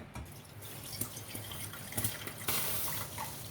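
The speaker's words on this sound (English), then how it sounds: "I'll wash this with a glass of water so that no smell of vinegar is there in it." A glass of water washes over fresh chena, homemade cheese curds, and drains away, with faint trickling, a few distinct drips and a louder splash near the end in a quiet kitchen.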